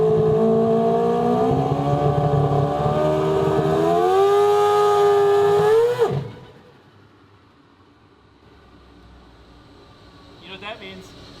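A 4-rotor Mazda RX-7 with all-wheel drive roars loudly on a two-step launch, its rising wail climbing for about six seconds before cutting off sharply, followed by quiet with a faint burst near the end.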